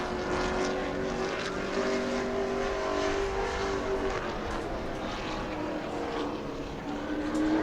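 A Sportsman-class race car running a qualifying lap at New Smyrna, its engine a sustained, fairly steady roar heard from a moderate distance.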